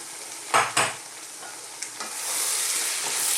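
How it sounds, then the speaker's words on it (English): Carrots tipped into a hot pan of black-eyed pea and vegetable curry, two sharp bursts of sizzle followed by a steady, rising frying hiss close by. "We're now going to add our hardest next vegetable. In my case, it's carrots."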